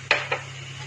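A spoon scraping and clinking twice against a pan while frying onions are stirred, two quick metallic knocks over a faint low hum.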